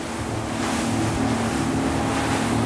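A boat fitted with a Seakeeper Ride stabilizer drives through rough waves, its engine droning steadily under a broad rush of water and wind noise on the microphone, loud and continuous with no speech.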